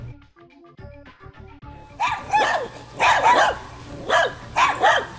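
Several dogs bark in loud, repeated bursts, about four clustered volleys over a few seconds, following a quieter stretch of soft tonal game music.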